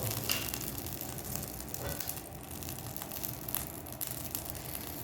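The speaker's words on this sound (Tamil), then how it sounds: "ஃப்ரை பேன் இப்போ ஆயிலை ஊற்றிடலாம் நண்பா" Oil sizzles in a frying pan heated for cauliflower 65, a steady, dense hiss that runs unbroken and fairly loud throughout, with no one speaking.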